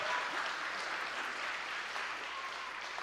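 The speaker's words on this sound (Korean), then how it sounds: "박수 한번 주시기 바랍니다" A Korean church congregation applauds, a quiet, fairly distant wash of clapping that holds steady throughout.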